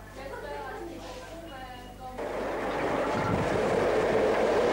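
A train rolls toward Lanzhou along the Silk Road in China, 1983, a broad steady rumble of rail noise that swells and grows louder in the second half, following a stretch of talk.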